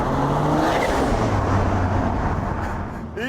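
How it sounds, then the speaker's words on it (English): A Jaguar XJ220 twin-turbo supercar accelerates hard, its loud engine note climbing steadily in pitch through a gear, then easing slightly near the end; no voices. "When those two turbos cut in, you need to be pointing in a straight line and hanging on."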